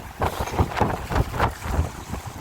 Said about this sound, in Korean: 바람이 상당히 많이 불고 있습니다.